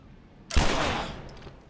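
A single loud gunshot in The Last of Us Remastered, a sharp close blast with a lingering tail fading over about a second.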